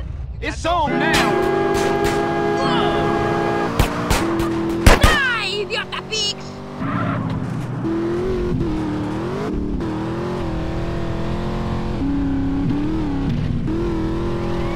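Car from GTA San Andreas revving and driving steadily for most of the stretch, a continuous engine drone with a few sharp bangs and crashes early on, while game characters shout over it.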